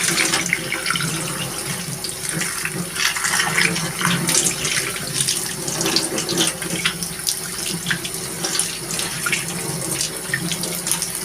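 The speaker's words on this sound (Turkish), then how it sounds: "Hemen malzemelerimizi bol suda yıkayalım." A tap runs at full flow as ingredients are washed under plenty of water, a loud steady splashing rush that holds from start to finish with no talk.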